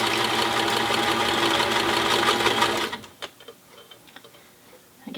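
Sewing machine top stitching a cloth protective face mask, running loud and steady for about three seconds before stopping, followed by faint handling clicks and a brief restart at the end.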